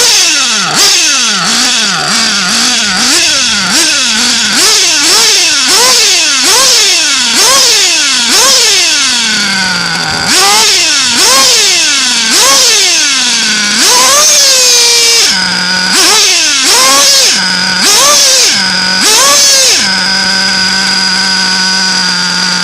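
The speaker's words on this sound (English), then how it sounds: "So anyway, let's get her ripping. Get her warmed up." A nitro RC engine fitted with a Novarossi 9886 pipe revs repeatedly as it warms up, each loud rising scream falling back to idle in a fast sawtooth rhythm, with a few longer high-pitched pulls toward the end.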